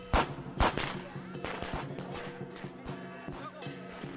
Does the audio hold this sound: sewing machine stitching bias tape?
no